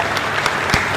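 Short burst of audience applause and clapping at a political rally and development conference in Shakurbasti, steady and fairly loud from a crowd.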